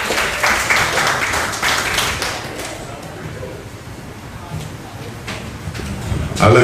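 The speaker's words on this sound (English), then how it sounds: "more hand of applause for Casey" An audience claps for Casey in a strong burst that thins out and fades after a few seconds, leaving a quieter room with scattered claps.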